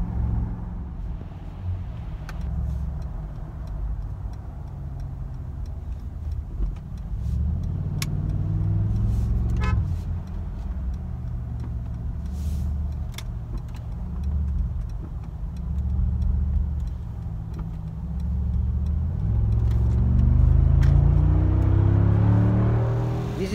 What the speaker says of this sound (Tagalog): V8 bi-turbo AMG.